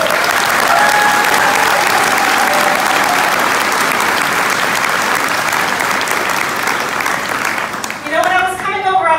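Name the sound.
round of applause for volunteers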